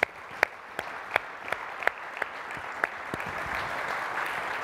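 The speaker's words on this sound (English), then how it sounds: "So if we can just give her an applause." Audience applause at a closing session, a steady wash of clapping running throughout with a few louder individual claps standing out, moderately loud and sustained.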